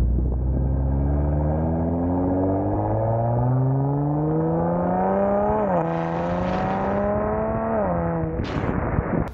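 A Kia or Hyundai car driving at about 30 mph revs smoothly upward in pitch. A paddle-shifter downshift into third gear brings a sudden jump in engine note, and then the revs fall away near the end. The engine drones close and steady the whole time.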